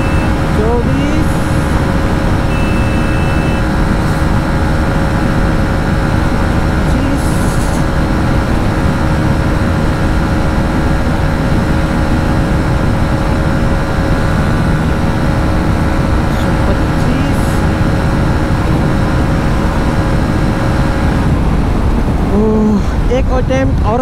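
A 2022 Hero XPulse 200 motorcycle at top speed on the road: a constant, loud roar of engine drone and rushing wind holds steady throughout, with a rider's voice faintly present beneath it.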